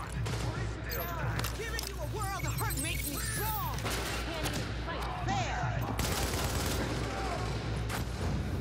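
Video-game combat fills the clip with a steady barrage of rapid gunfire, crackling shots and crashing impacts, with faint voices underneath.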